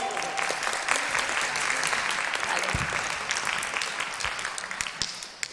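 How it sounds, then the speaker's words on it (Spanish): Audience applause at a live science show, a continuous crowd of clapping hands holding steady throughout with a few louder claps standing out. "Señoras y señores, un fuerte aplauso para Bakugou."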